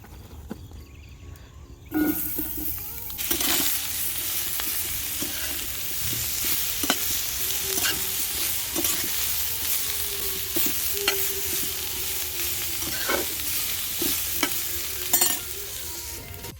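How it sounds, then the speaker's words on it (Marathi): Masala with onion and curry leaves roasting in a pan over a wood-fired chulha, a steady sizzle with repeated scraping stir strokes, close and loud throughout. "आता मी मसाला भाजून घेणार आहे"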